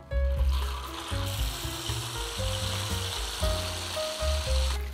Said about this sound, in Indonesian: Sekarang kita mau goreng dulu sambalnya.